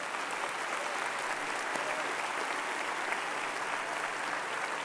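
Steady, dense applause from a large church congregation at a Lakewood service, filling the room evenly for several seconds with no pauses or voices standing out.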